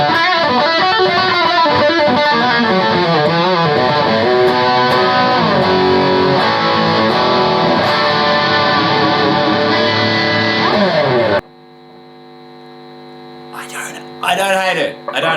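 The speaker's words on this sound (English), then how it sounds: "For a solid state digital distortion, I can live with this." Electric guitar played through a high-gain solid-state digital distortion, a dense saturated tone with sustained riffs that cuts off abruptly near the end, followed by a quieter hum and a few brief bursts.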